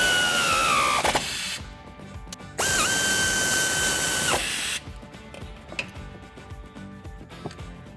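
A power tool running a 15mm nut onto the suspension of a Ford F150 being fitted with a lift kit, two loud whirring runs of a couple of seconds each, with ratcheting clicks and clatter in between.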